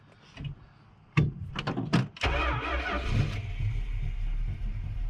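A 1970 Dodge Dart Swinger with a 340 engine cranks briefly with a few sharp clicks and clunks, then catches and settles into a steady, loud, rumbling idle close by.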